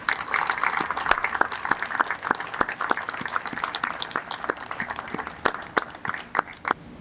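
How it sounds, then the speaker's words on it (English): An audience applauds at a police and fire department awards ceremony, sustained clapping from a room of people with sharp individual claps standing out, steady for several seconds. "One more round of applause, please"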